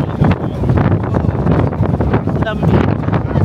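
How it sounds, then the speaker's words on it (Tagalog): Strong wind roars steadily into the microphone at Sydney's Circular Quay, a loud continuous buffeting rumble, with a faint voice briefly audible beneath it. "malakas ang hangin"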